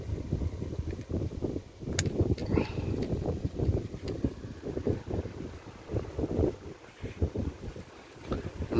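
A small brushless-motor mini fan runs steadily up close, its whooshing airflow buffeting the microphone like wind with uneven gusty pulses throughout.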